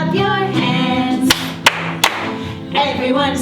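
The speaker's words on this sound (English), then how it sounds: "Clap your hands," Children's playtime singing session with hands clapping: three sharp claps spaced out over sung music, near and fairly loud.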